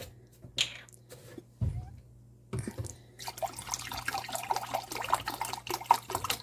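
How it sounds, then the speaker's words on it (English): Water and distilled white vinegar are poured into a container in the kitchen, starting with a few knocks and clinks, then a steady liquid splashing and trickling that runs for several seconds, close by. "I'm gonna use 4 cups of water, and then I'm gonna add 2 cups of vinegar."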